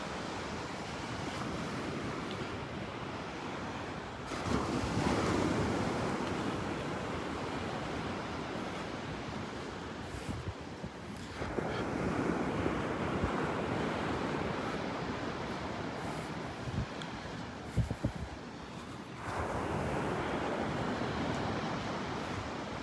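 Surf rolling onto the wide stretch of beach at Delnor-Wiggins park, with steady wind rushing across the microphone and waves swelling and breaking in broad surges every several seconds.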